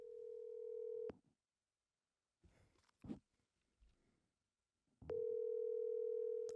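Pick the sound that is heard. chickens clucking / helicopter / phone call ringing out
phone call ringing out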